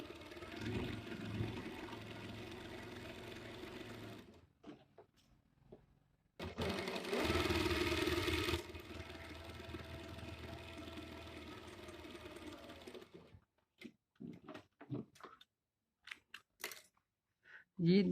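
A sewing machine stitches fabric in a basic stitching lesson, running in several bursts of rapid mechanical whirring separated by pauses, followed by scattered clicks and handling noises.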